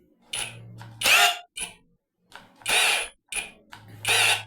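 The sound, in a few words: Oraimo Maxdrill cordless drill running in hammer mode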